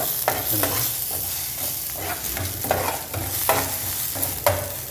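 Green chilies and mint fry in hot oil in a pan for mint chutney, giving a close, steady sizzle. Repeated scraping stir strokes fall about every half second.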